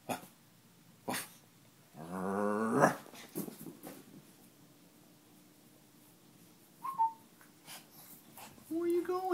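A Chihuahua playing tug of war lets out a short, close growling burst, followed by scattered whimpers and soft snuffles, with a person talking intermittently around it.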